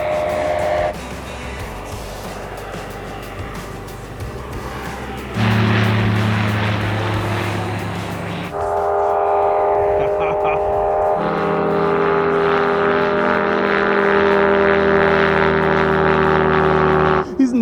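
RANS light aircraft propeller engine near the runway, a steady droning hum that shifts in pitch and loudness as the engine changes power, with people talking over parts of it.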